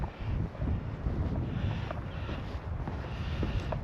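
Strong wind gusts across a hiking trail along a clear pond in May, rumbling low and steady against the microphone with no voices.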